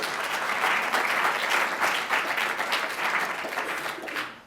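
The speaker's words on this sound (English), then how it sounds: "To me, that deserves a round of applause" A crowd gives a sustained round of applause at a talk on the physician assistant profession, dense clapping at steady volume that fades out at the end.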